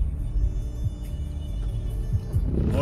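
Heavy road traffic on a snowy road in Murree, a low continuous rumble of vehicles with occasional nearer passes, steady and moderately loud with no talk.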